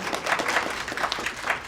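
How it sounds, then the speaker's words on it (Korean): An audience at a startup demo day gives a brief burst of applause, clustered claps in a quick, uneven rhythm. "다시 한번 큰 박수 부탁드리겠습니다."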